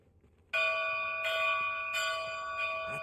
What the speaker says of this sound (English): All that remains is to ring the bell.